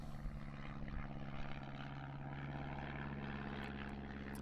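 A propeller aerobatic aircraft flies a manoeuvre at a British aerobatics championship, heard as a faint, steady engine and propeller drone that swells slightly early on and then holds, with no speech.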